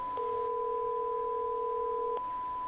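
A telephone tone in a Breath of the Wild playthrough sounds as a single steady electronic beep, held for about two seconds at moderate volume and then cut off, with faint room noise around it.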